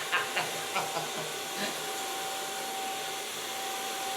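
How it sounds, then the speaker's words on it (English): A hair dryer blows steadily close by while hair is blow-dried with a medium round brush, a constant airy hiss with a faint whine and a few light knocks near the start. "Then I started blow drying."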